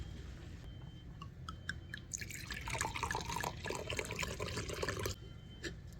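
Liquid trickles and splashes into a container outdoors at a campsite, starting with a few drips and settling into a steady pour of about three seconds. The pour sounds close and moderately loud over a low background hum.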